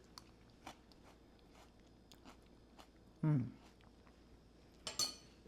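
Someone takes a bite of freshly mashed homemade guacamole in a kitchen, giving one short close crunch followed by a brief clink of utensils, amid quiet room noise.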